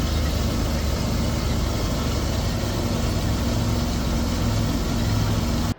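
A tractor engine runs steadily at low idle-like revs while heading out a driveway pulling two John Deere balers, a loud, constant diesel drone with a deep rumble that cuts off abruptly at the end.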